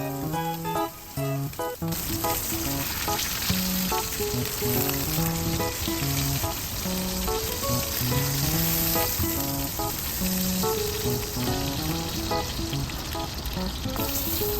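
Loud, close sizzling of pork browning in a pan, continuous throughout, with a melodic music track playing over it and a brief spoken word.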